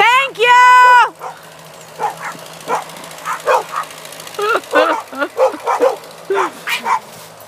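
Dogs out in the snow let out a loud drawn whine, then a run of short yips, whimpers and barks, close by.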